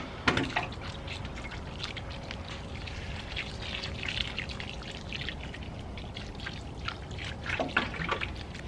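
Water poured over a newly planted bare root rose, a steady splashing and trickling stream soaking into soil for several seconds, close and continuous with a few louder gushes.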